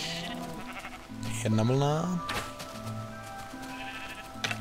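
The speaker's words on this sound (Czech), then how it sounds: "Konečně jsem narazil na ovečku." A sheep bleats once in Minecraft, a clear wavering bleat heard under someone speaking over steady background game music.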